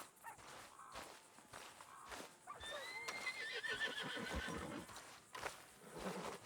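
A Hungarian half-breed horse in Red Dead Redemption 2 gives a drawn-out whinny mid-clip, surrounded by clip-clopping hooves and footsteps, with game ambience running underneath.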